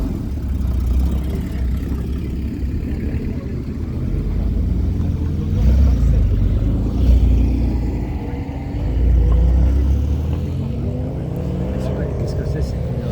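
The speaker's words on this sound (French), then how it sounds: "On va laisser partir les premières voitures" Cars pulling away at a motor show in Albertville, engines idling and revving in a steady rumble that swells and fades as vehicles leave, with people talking throughout.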